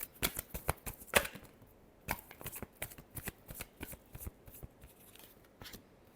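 Tarot cards shuffled by hand in a short run of crisp riffling bursts and flicks, close and fairly quiet, with brief pauses between passes and no talk.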